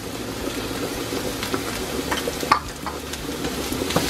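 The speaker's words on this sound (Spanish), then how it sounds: "La voy a sofreír un poquito." Carrot sizzles as it is sautéed in about two spoonfuls of oil for a smoked-rib bean soup. The soft, continuous frying hiss is broken by occasional stirring scrapes and a few small clicks, with a soup boiling nearby.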